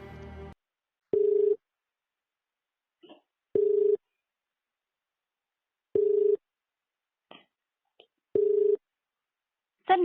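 Telephone keypad tones beep one at a time before a phone call, four clear steady tones spaced a few seconds apart with small clicks between them and no talking.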